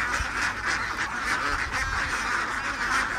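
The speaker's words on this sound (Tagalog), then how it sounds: "Yan ang mga alagang bebe." Domestic ducks on a Philippine farm quack and honk repeatedly in a close, busy chorus of overlapping calls that carries on without pause, with no talking over them.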